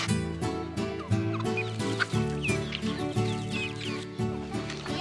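Mapuche hens cluck close by on a rural farm in Chile, repeated short clucks and rising squawks in a busy, steady rhythm over a low droning background.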